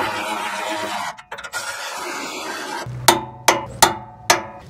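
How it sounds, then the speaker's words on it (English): A battery-powered Milwaukee tool snugs bracket fasteners on a Ford F-Series catalytic converter shield, first a steady close whir with brief stops, then four sharp clicking bursts. "I am going to use the battery powered Milwaukee here to get these snug first."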